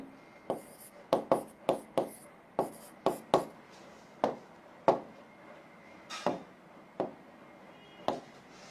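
A marker or chalk writes out an equation in a chemistry lesson on reaction rates, producing a steady run of sharp tapping strokes and short scratches at close range with no one talking.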